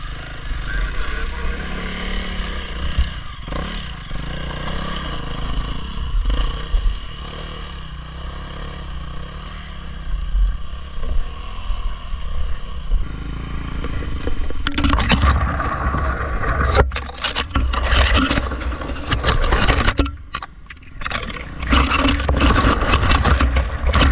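A Honda CRF300L motorcycle engine runs in snow, first a steady rumble, then loud, choppy revving bursts that rise and fall through the second half, close by.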